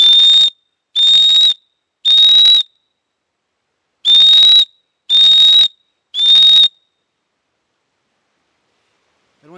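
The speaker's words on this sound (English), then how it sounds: "So you whistle in threes." A shrill whistle blows six short, sharp blasts, two groups of three separated by a pause, loud and clear against silence.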